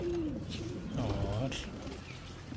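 Pigeons coo softly in an indoor poultry setup alongside hens and roosters, low repeated coos mixed with someone speaking.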